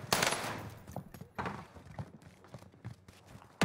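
Bursts of gunfire crackle in a battle royale video game, rapid irregular shots of varying loudness spread across the moment, fairly faint overall.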